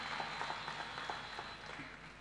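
An audience at a university orientation for parents and families claps in a faint, steady patter of applause that carries on for about two seconds.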